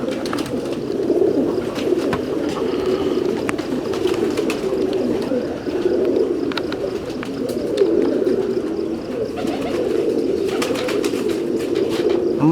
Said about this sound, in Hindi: ये मिस्सी साहब ने जो रामपुरी कबूतरों ने बीच में ऐड किए हुए थे, ये वो वाले हैं।